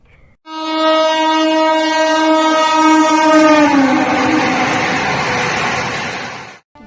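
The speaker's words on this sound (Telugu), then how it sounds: "ప్రధాని మోడీ సారు చేతుల మీదంగా చాలైన ఈ స్లీపర్ బండి హౌరాకెంచి గౌహతి దాకా నడుస్తుంది" Vande Bharat sleeper train between Howrah and Guwahati in West Bengal sounds a long, loud, steady horn, close and alone, with rolling rail noise building underneath as the horn fades near the end.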